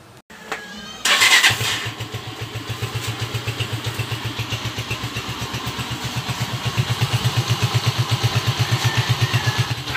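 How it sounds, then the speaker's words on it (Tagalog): A motorcycle, just fitted with a washer behind its clutch housing, cranks and fires up after a brief pause, then settles into a steady, even idle that swells slightly louder partway through, close by and with no talking. "At bago natin patakbuhin, siyempre, pandarin muna natin mga kabro."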